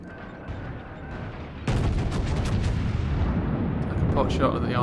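Naval artillery fire in the World of Warships game, a sudden heavy booming salvo that gives way to a sustained rumbling roar of battle, with someone talking briefly in the quieter stretch before it.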